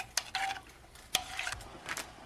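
Frozen vegetables drop into a pot of instant noodles and get stirred, a few short scrapes and clinks of a utensil against the pot over a faint simmer, close and brief.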